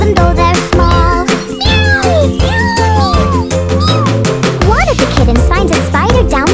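A sung nursery rhyme with a voice imitating a small kitten's meows, rising and falling over loud, steady children's music backing throughout.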